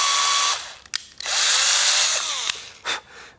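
Power drill driving a screw into the body of a Fender Telecaster during a modification, whining loudly in two long bursts with short pauses between and a brief final burst.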